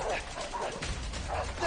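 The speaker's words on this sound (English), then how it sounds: "I got dogs. I got fucking dogs." Dogs chase in the video game A Way Out, letting out several rough, close barks and yips over a busy background of game noise and rumble.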